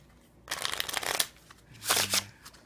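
Angelarium playing card deck shuffled in two quick riffle bursts, crisp and close with a pause between them, no talking.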